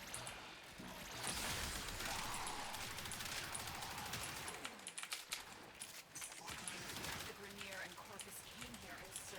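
Athodai pistol primary fire in the video game Warframe comes as dense, rapid bursts of sharp gunshots over busy in-game noise, staying loud for the whole stretch with a brief dip midway.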